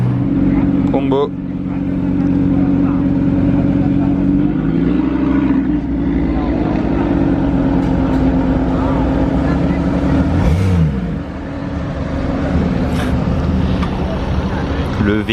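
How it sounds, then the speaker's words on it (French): A deep, loud Lamborghini Aventador V12 engine drones and rumbles nearby for a long stretch, swelling and easing, with people talking over it. "j'entends une Aventador, vous l'entendez?"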